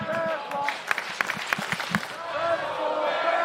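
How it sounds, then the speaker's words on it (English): A college wrestling crowd at a West Virginia versus Utah Valley match chants together with rhythmic, evenly spaced claps, a broad roar of voices swelling again at the end. "Crowd chanting for Terrell here."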